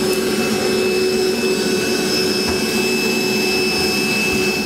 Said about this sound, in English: I'm just gonna grab my vacuum cleaner and pick up our mess here.